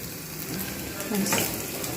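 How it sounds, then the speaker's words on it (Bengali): Onions frying in a pan for a bitter gourd mash, a continuous close sizzle with faint stirring scrapes, steady in loudness throughout. "সময় নিয়ে আমি এই পেঁয়াজটাকে ভেজে নেবো"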